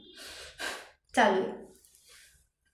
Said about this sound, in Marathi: श्वास घेऊन दीर्घ श्वास घेऊन सोडला की कळतं.